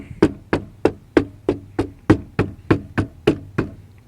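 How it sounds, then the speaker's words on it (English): Knuckles knock on a 1989 Cherokee body panel lined with FatMat sound deadener, producing a dozen evenly spaced, dull, damped thuds close by with no talking. "when you knock on it, it's quiet"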